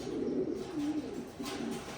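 Soft, low cooing from a pigeon, a few rolling coos in close succession, faint and close with a quiet room behind it.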